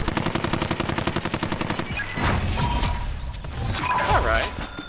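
Rapid, steady automatic fire from an MG34 machine gun in the Warzone video game, a fast rattling burst that gives way to jumbled explosions, impacts and game effects, with a player talking over it.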